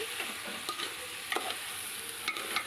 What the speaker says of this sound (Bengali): চালটা দিয়ে আরেকটু নেড়ে নেব